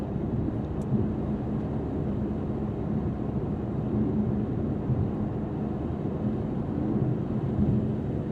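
Steady low rumble of road and wind noise inside the cabin of a 2024 Mercedes-AMG GT 63 Coupe cruising on a smooth highway, an even droning hum with no voices.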